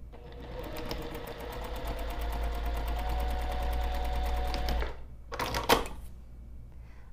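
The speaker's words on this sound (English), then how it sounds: "I'm going to take this strip over to the sewing machine, and we're going to be sewing it directly on top of the line" A sewing machine stitches a binding strip at a regular 2.5 mm stitch length, whirring steadily for about five seconds, then stopping, followed by a short second burst of stitching and some soft handling noises.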